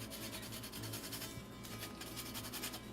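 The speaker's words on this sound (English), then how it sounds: "we're going to zest one lemon into the pot with this funky tool" A lemon is scraped steadily against a zester over a pot, producing a continuous close, soft rasping rub with a faint rhythmic texture and no talk over it.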